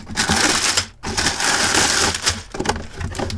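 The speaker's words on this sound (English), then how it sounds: "We're going to break into it, rip it open" A Lego set box being ripped open, loud crackling cardboard and plastic tearing in two long bursts with a brief pause, close by with no talking.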